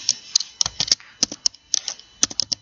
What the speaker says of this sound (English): just type here Fira code and after that